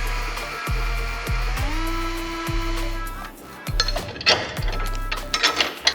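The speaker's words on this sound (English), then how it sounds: "I'm gonna go ahead and drill these puppers out." A power drill bores out center-marked metal mounts for a supercharger install on a cheap drift car, the motor whirring in steady bursts that start and stop several times, then rougher grinding bites near the end, close and fairly loud.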